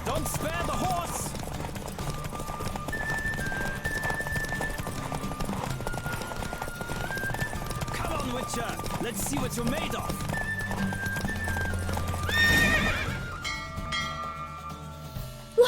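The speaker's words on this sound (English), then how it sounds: "Don't spare the horse!" Horse galloping in a race in the video game The Witcher 3, a rapid, steady clip-clop of hooves running throughout under game music, with a character shouting over it.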